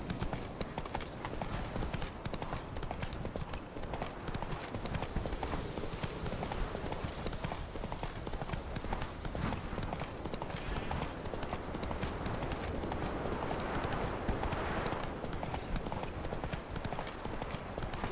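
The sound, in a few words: horse galloping hooves in video game Witcher 3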